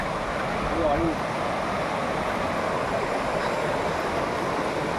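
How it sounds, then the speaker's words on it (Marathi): The Koyna River in the Sahyadri hills flows with a steady, continuous broadband rush of water that stays at an even level throughout, with no distinct breaks. "इकडे ही कोयना नदी आहे"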